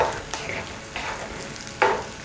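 Tomato being stirred into a simmering prawn curry, with a few soft scraping strokes of a spoon over a low bubbling sizzle, close and fairly quiet.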